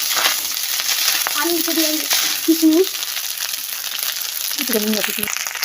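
Food fries in a pan with a steady, close sizzle while it is stirred, and a few brief voices speak over the hiss.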